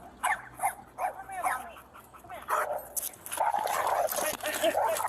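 A pit bull barks in short, sharp bursts and whimpers, with yips scattered between, loud and close, while people speak over the commotion and the noise grows more frantic toward the end.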